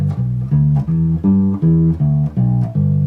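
A bass guitar plays a blues-style line outlining root, third, fifth, sixth and octave as a string of deep, plucked notes in an even stepping rhythm, close and alone.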